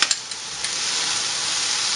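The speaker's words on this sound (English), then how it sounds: "continue cooking until the asparagus browns just a little bit" Asparagus and minced garlic sizzle steadily in a hot pan, a continuous bright hiss with a couple of small pops at the start.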